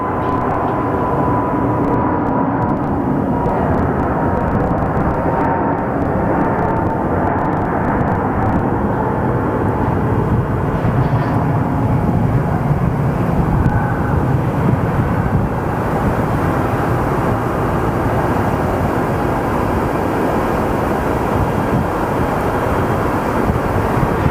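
An aircraft departing Phoenix Sky Harbor Airport, a broad steady roar heard from a distance with wind buffeting the microphone throughout, with no talk.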